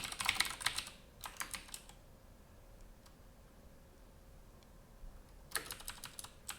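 Fingers type on a computer keyboard in quick clustered bursts of clicking keystrokes, separated by quiet pauses, fairly faint and close with no speech.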